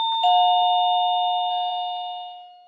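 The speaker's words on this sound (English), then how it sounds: "I'm going to press the doorbell now and you're going to see what happens" A single electronic doorbell chime rings out clearly and then rings on, slowly fading over a couple of seconds in a quiet room.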